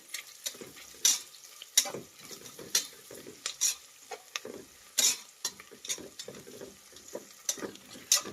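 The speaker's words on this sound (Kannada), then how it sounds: "ಈಗ ಈರುಳ್ಳಿ ಹಾಕಾದ್ಮೇಲೆ ಕರಿಬೇವು ಹಾಕ್ತಾ ಇದ್ದೀನಿ" Onions and curry leaves frying in a pan for tomato bath, soft sizzling under repeated spatula scrapes and clinks against the pan at an irregular rhythm, close and moderately quiet.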